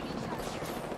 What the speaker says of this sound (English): Careful. You're getting shot from above.